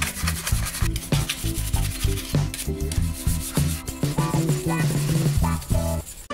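Small airsoft replica parts are rubbed clean with a rag, giving dense, steady scrubbing and rasping strokes close up in a quick uneven rhythm, without any talk.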